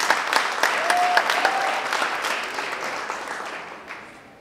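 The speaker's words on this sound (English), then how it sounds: "let's give a round of applause for Malaika." Audience applause at a public talk event, a broad wash of clapping that starts loud with a few distinct claps over a faint voice, then gradually fades over about four seconds.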